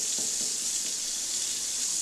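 Water runs steadily from a tap in an evicted house, a constant close hiss with no break, heard alone.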